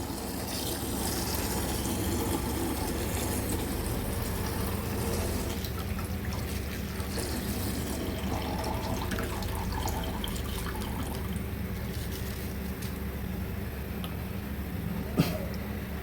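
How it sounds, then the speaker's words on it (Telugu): Buffalo milk pours from a packet through a small punched hole into a simmering decoction for ragi porridge, a steady, close, continuous liquid pour that runs unbroken throughout with no talk. "ఇలా మసులుతున్న డికాషన్లో తెచ్చిన గేదె పాలని కంపెనీ సీల్ కాకుండా మనం పెట్టిన ఓన్ హోల్తోని మొత్తం కలిసేలా పోసుకోవాలి"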